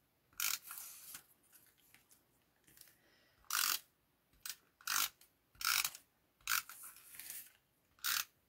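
Scissors snip through cardstock in about nine short, quiet, crisp cuts at an uneven rhythm, with near silence between them and no talking.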